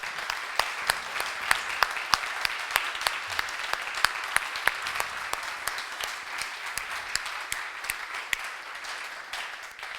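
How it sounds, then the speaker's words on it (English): Audience applause at the end of a talk at the PDF Days Europe 2016 conference, a steady dense clapping from a sizeable crowd lasting throughout, with sharp individual claps standing out. "I hope we can all thank you, Olaf, very much with a very big applause."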